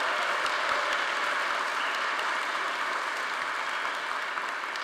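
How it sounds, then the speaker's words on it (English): Steady applause from an audience at a Stanford athletics board awards ceremony, a dense even patter of many hands clapping at moderate distance, continuous for the whole stretch without speech. "Let's give Scott one more round of applause for a tremendous job."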